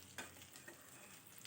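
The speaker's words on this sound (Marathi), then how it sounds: "चला दोन्ही बाजूनसुद्धा मी फ्राय करून घेते" Halved boiled eggs sizzle in oil in a wok for egg masala, a soft continuous frying hiss broken by a few light clicks and stirring taps.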